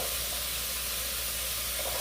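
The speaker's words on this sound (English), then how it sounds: "So I'm going to add in a little onion." Onion dropped into a hot pan, giving a steady, even sizzle and hiss that holds without a break from start to finish.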